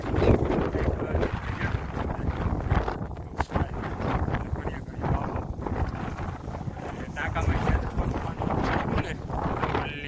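Loud, steady wind rushes and buffets the microphone throughout, with muffled voices underneath.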